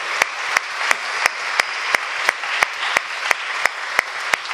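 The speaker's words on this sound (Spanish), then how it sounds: "Aplausos para ellos." A church congregation at a Venezuelan parish celebration applauds in a steady wash, with one loud, crisp clap repeating at an even rhythm over the crowd throughout.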